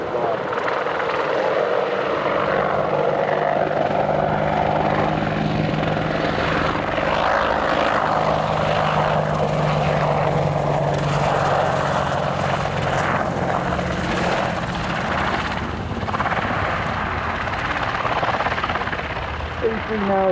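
Boeing-Westland WAH-64 Longbow Apache helicopter making low-level banking turns at an air show, a loud continuous rotor and engine roar that swells and fades, with a commentator talking over it.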